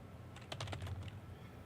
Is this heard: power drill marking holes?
no